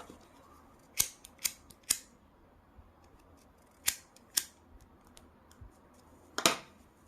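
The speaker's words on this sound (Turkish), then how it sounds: "İpin de fazlasını kesiyoruz." Scissors snip excess yarn in a crochet project, about seven crisp close cuts in small clusters, separated by quiet pauses with no talking.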